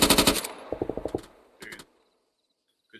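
Machine gun fire from the Arma 3 video game during a milsim machine gunners course, heard as three quick bursts of rapid shots, the first loud and close and the later ones shorter, then silence.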